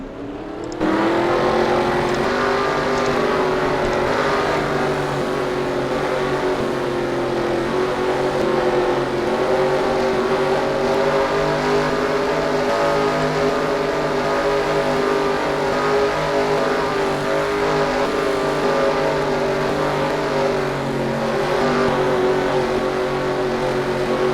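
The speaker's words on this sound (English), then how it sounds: "there is our command to fire up these 42 beautiful engines" Forty-two stock car engines fire up together for the Goodyear 400 at Phoenix in a racing video game: an abrupt start into a loud, dense, continuous engine drone that holds steady and unbroken, with no talk.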